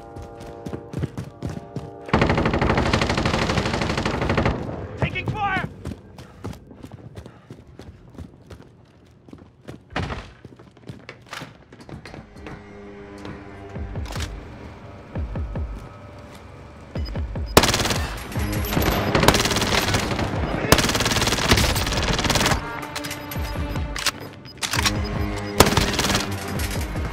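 Machine gun fire in a Call of Duty game, repeated bursts of rapid automatic shots mixed with heavy thuds and impacts, quieter in the middle stretch and then dense, loud firing toward the end.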